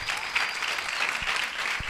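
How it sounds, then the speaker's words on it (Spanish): A church congregation claps together, a dense, fairly quiet burst of applause lasting a couple of seconds. "Fuertes aplausos para recibir la palabra de Dios."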